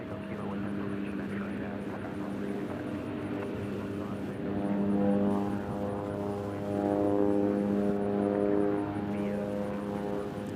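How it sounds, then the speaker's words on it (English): Helicopter flying high near Nashville International Airport, a steady droning rotor and engine hum with layered tonal harmonics, continuous and moderately loud over background noise. "I hear a helicopter."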